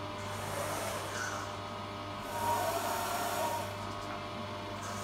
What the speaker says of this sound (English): Peck drilling.